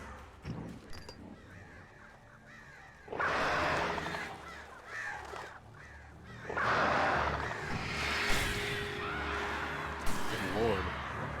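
Crows caw aggressively in the Alan Wake Remastered video game, harsh calls coming in bursts over game ambience, with a player speaking and exclaiming at times.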